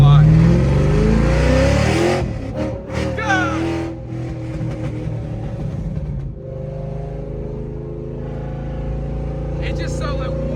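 A procharged Ford Mustang Cobra with open exhaust revs hard and loud, then drops into a rough, burbling idle with a couple of short blips, while people talk over it.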